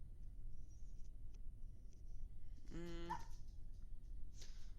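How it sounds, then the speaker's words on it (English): A dog lets out a short bark or whine near the middle of a quiet room with a steady low background hum, wanting to be let outside. "my dog wants outside."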